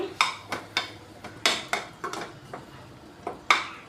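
A metal lid set on a cooking pot while a drumstick masala curry cooks, a string of light clinking taps and clatters, close and fairly crisp, with no talk.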